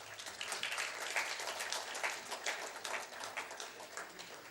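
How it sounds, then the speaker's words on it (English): Audience applauding the two teams at a telecommunications authority event, a steady wash of many hands clapping at moderate level throughout, fairly distant in the room with no voices over it. "both the teams deserve a round of applause"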